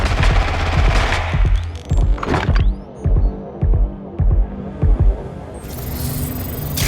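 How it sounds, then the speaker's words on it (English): Gunfire in Watch Dogs: Legion comes as a series of loud, close shots in quick clusters, some rapid bursts, with a low game hum between them. "Target is firing!"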